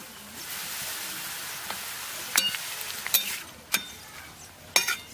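Raw potato strips frying in hot oil as chips, with a steady soft crackling sizzle throughout and a few sharper clinks or ticks of a utensil against the pan, close and moderately quiet with no talk.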